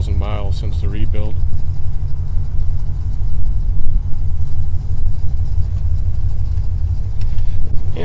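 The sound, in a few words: 1981 Chevrolet Corvette engine idling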